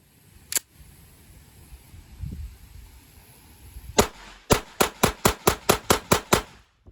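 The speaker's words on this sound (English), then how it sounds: "Now for a test fire." An Erma EP22 .22 pistol is test fired with Norma Tack 40-grain ammunition: one sharp crack, a pause, then another shot and a fast string of about nine evenly spaced loud reports.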